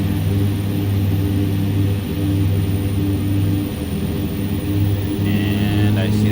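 A simulated propeller aircraft engine idles with a steady, loud drone and a constant low hum in X-Plane 11, with a person talking over it and a faint tonal beep near the end.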